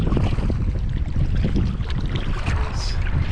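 Wind gusting across open water while out in a kayak on a bass fishing trip, a steady loud roar of buffeting wind noise lasting throughout, close to the microphone and with no talking.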